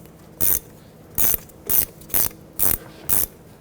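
A ratchet snugs down the 14 mm shock mounting nut on a Chevrolet Express van, six short metallic clicking bursts in an even rhythm, close and clear with no talking.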